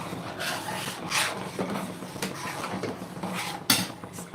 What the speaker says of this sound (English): Scraping off the milk while it is sticking to the bottom is very much essential